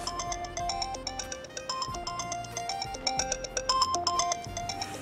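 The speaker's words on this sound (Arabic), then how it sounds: "ما تردش، سيبه يرن" A telephone rings in a domestic scene from an Egyptian TV drama. The bright, melodic ringtone repeats its tune continuously and clearly, with no one speaking over it.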